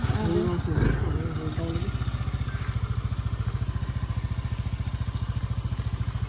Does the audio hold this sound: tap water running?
no